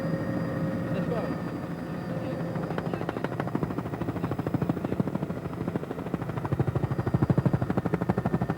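Helicopter rotor chop from a chopper over forest during the 1988 Tokoroa Rally, a steady rhythmic beating that swells toward the end, continuous and fairly loud.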